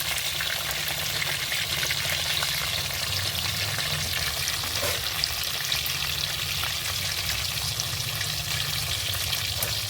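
Chicken satay pieces frying steadily in a pan over low heat, a continuous dense sizzle with faint stirring and turning noises, close and even throughout with no voices.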